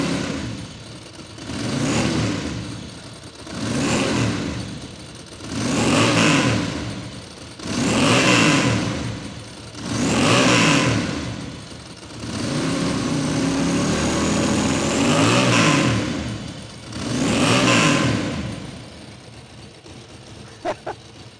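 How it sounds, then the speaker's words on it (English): A Bimota DB2 motorcycle with a dry clutch revved repeatedly through its exhaust, about eight loud, close throttle blips rising and falling in a steady rhythm between idle, with one longer held rev partway through. "But let's hear that exhaust."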